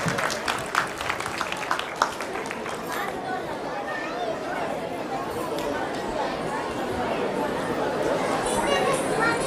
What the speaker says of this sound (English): Let us all give a big round of applause to the participants.